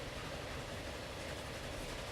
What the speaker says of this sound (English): Let's wait and see what happens when the train comes in.